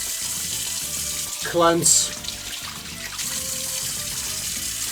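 Water runs from a tap into a sink or basin for the second rinse of fight clothes, with no detergent added, a steady close splashing stream with a brief louder gush partway through, while a voice speaks briefly.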